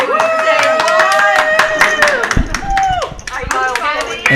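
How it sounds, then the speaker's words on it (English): A poker table of players at a ladies' night $1/$3 cash game cheers and claps for a fellow player, a busy burst of applause and voices with people talking throughout. "look at the table cheer for Sue"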